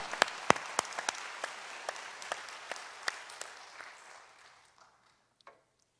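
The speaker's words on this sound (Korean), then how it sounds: "위대하신 하나님의 은혜와 역사를 박수합니다." A congregation at a Sunday evening church service claps together, strong at first and then gradually thinning out to a few scattered claps before silence.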